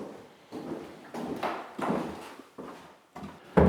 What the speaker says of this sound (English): you can hear the floorboards whacking and banging because I've got them down but I haven't screwed